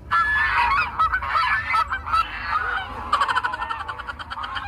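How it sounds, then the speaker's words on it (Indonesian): A goose in Jurassic World Evolution 2 honks loudly and repeatedly in quick, uneven bursts, close and clear with no talking. "Bebek angsa."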